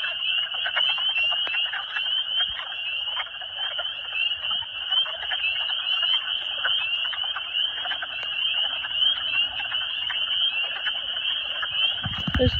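Dense chorus of spring peeper frogs near a chicken yard, a steady shrill high-pitched peeping that holds continuously and fairly loud throughout, with a brief low thump at the very end.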